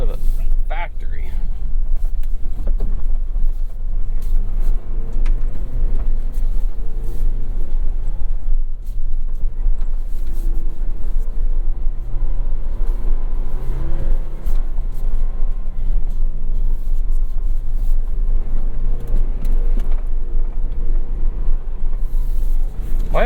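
A 2023 Ford Bronco Heritage Sasquatch with a seven-speed manual is driven hard, its engine droning loud and close with rising and falling revs and shifts, under near-constant talk from inside the cabin.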